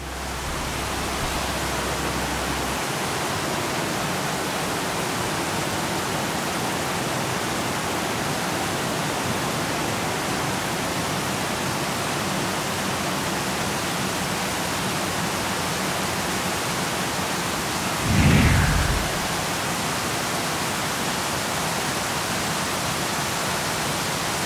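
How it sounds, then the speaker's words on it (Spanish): Water from the Madhó Corrales dam in Alfajayucan, Hidalgo spills over the retaining wall like a waterfall, giving a steady, broad rushing roar that stays constant throughout, with a brief low thump near the end. "el muro que contiene el agua y la deja salir poco a poco simulando una cascada"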